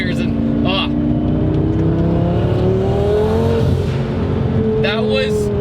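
A twin-turbo Lamborghini Gallardo engine revs loudly and steadily, with a rising, sustained drone and a few short crackling bursts like backfires. A voice is heard over it.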